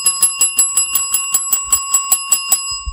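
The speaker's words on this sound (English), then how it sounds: "Brotherhood bell." A bright bell sound effect on a talk show rings rapidly about fourteen times in quick succession, clear and loud, ending with a soft low thump.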